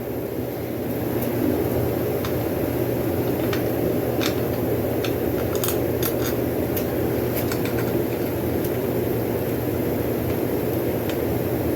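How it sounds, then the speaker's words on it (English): A propane heater runs steadily in a garage during a 1991 Sportster build, giving a constant close broadband roar with faint intermittent ticking over it and no speech. "my camera happens to be right next to the heater. Making some noise. I got a propane heater."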